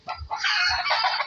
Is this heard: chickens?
yes